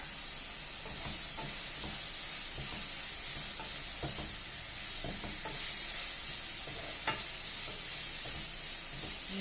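Meat masala spice mix is stirred and fried in a pan for Kerala beef varattiyathu in a home kitchen: a steady close sizzle with irregular scraping and clinking stir strokes throughout, no voices.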